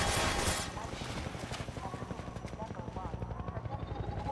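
A Half-Life 2 combat helicopter circles back, its rotor a steady rapid chop close by, with a burst of noise at the start.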